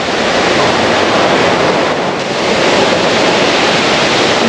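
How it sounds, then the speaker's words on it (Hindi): Ravana Waterfall in Sri Lanka pours with a loud, steady, full roar that stays constant throughout without a break. "अगर कोई शोर अच्छा लगता है, कान को सूदिंग लगता है, तो वो वाटरफॉल का ही शोर है।"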